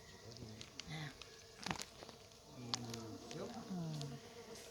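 Stingless bees buzz steadily around an opened nest box being transferred, a dense, close insect drone with brief sharper flicks of wings throughout.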